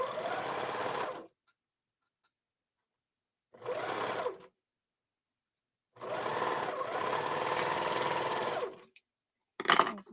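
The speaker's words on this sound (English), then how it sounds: "I'm going to sew right across both sides." A sewing machine stitches straight across both sides of matched, printed fabric pieces, running in several bursts: a long run, a short one, another long steady run and a brief final spurt, with silent pauses between, close and clear.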